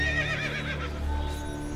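A horse whinnies loudly in the video game Assassin's Creed Brotherhood, a single close, quavering neigh that fades into softer hoof clops and game ambience.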